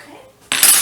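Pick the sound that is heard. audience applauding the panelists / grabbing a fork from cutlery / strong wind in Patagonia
grabbing a fork from cutlery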